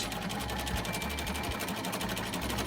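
A sewing machine stitching a candy corn hot pad runs steadily for the whole stretch, a close, even mechanical whir with a rapid needle rhythm and no talking.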